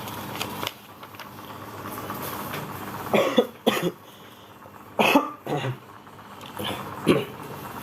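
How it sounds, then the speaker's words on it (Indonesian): Several short, harsh coughs in bursts, fairly close, with a quiet room background between them. "Batuk ya,"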